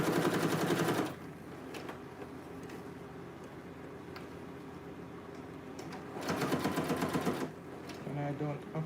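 A sewing machine stitches a dress in two short, fairly loud bursts, one at the start and one near the end, with a person talking in between.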